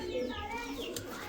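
Punjabi Kalsara pigeons coo softly and continuously at close range, with a faint higher bird call and some indistinct voices in the background.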